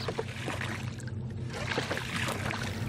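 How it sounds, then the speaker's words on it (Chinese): A small boat is poled through mangrove water at high tide, giving soft intermittent splashes and trickling water at close range, fairly faint, with faint voices in the background. "撑着小船穿行在这片红树林当中"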